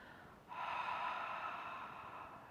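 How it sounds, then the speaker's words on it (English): A sustained breathy exhale through an open mouth during an ocean-breath exercise, with a soft whispered-ha quality. It starts abruptly, stays steady and close for about two seconds, then eases slightly, with no talking. "breathing in and out of the mouth"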